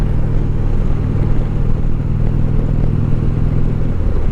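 A motorcycle, not a sport bike, is ridden on the road, its loud, steady engine drone running throughout with rumbling wind noise and a slight rise in pitch near the end as it speeds up.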